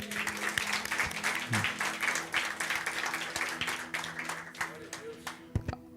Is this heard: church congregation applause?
yes